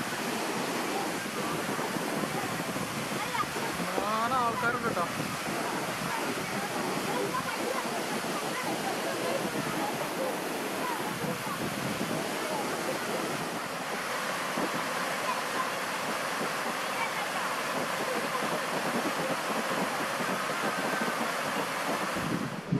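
Punnayar waterfall at Kanjikuzhi, Idukki, a twin waterfall, gives a steady broadband roar of falling water with gusts of wind across the mic; a person talks over it throughout.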